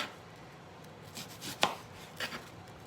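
A knife slices a vegetable into thin rings with a few crisp, close cuts spaced irregularly through a quiet kitchen background. No one speaks.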